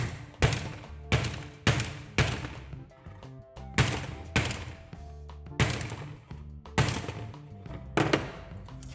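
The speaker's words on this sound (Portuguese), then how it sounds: "Então vamos utilizar aqui um martelo para certificar que realmente ele está resistindo ao" A hammer repeatedly strikes a panel covered with protective film in an impact test, giving a steady series of loud, sharp thuds about every second, each ringing briefly over a noisy background.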